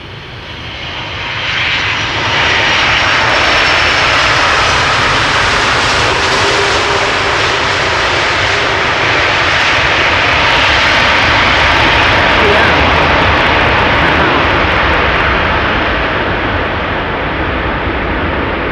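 An airliner landing at Amsterdam Schiphol Airport roars loudly and steadily throughout, a broad sustained jet-engine rush that swells in the first seconds and holds near, with a faint voice underneath.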